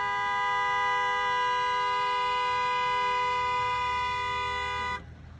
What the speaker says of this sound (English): When they keep driving, the bus driver honks his horn.